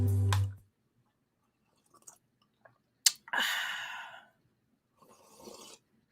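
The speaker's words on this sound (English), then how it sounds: "I know I'm slurping." Someone slurps green tea up close, with a sharp click, then a long airy slurp and a softer second sip, separated by near silence.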